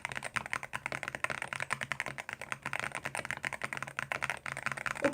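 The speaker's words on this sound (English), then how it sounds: "the switch is phenomenal, and it's a light switch because I'm a light typer" Fingers type quickly on a mechanical keyboard fitted with light switches, producing a dense, steady stream of close, crisp clacks with short gaps between runs.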